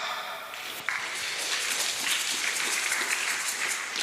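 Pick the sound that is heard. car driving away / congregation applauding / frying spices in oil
congregation applauding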